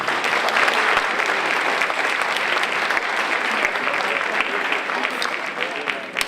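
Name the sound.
audience applause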